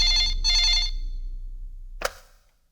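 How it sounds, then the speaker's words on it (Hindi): A telephone rings in two bright, even bursts, followed after a pause by a single sharp click, as if the receiver is picked up, all fairly loud and close with no talk. "राज, तुमने फोन क्यों किया?"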